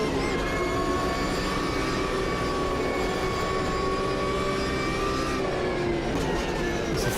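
Porsche 911 engine in the racing game Automobilista 2, lapping Daytona, a steady sustained drone with layered harmonic whine holding roughly constant pitch throughout, loud and continuous with no talk.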